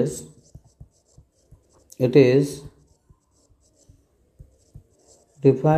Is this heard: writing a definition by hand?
yes